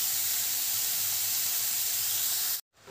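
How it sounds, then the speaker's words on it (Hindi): Grated carrot goes into a pan of roasted cardamom for carrot halwa, a steady loud hiss and sizzle that cuts off abruptly near the end, no voices. "अब हम इसमें कद्दूकस किया हुआ गाजर डालेंगे"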